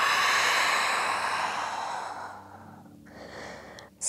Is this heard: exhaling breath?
yes